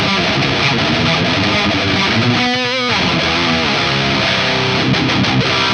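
An electric guitar played through a BE Deluxe amp module rings out as a continuous, thick, driven tone with sustained chords and a brief pitch-wavering bend in the middle, filling the clip with no talking.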